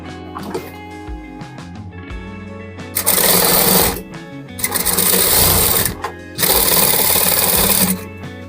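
A sewing machine stitching a fabric scrunchie runs in three loud, steady bursts of about a second each, separated by short pauses, after some quieter handling noise and brief talk at the start.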